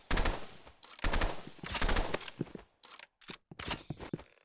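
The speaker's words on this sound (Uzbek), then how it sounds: "Mana bu avtomat ham zo'r." Automatic rifle fire in the Roblox game Rivals comes in several short, sharp bursts of rapid shots separated by brief gaps, close and punchy, with a few single cracks near the end.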